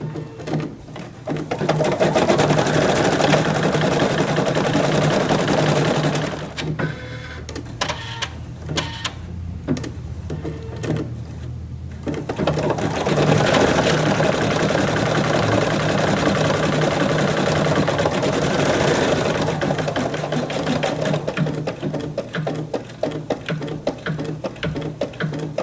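A Creative Sensation Pro sewing machine stitches a run of buttonholes with a fast, steady mechanical whir and rattle, pausing briefly midway before resuming at full pace, close and loud with no talking.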